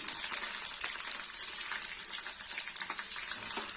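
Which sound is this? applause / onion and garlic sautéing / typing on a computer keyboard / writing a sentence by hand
onion and garlic sautéing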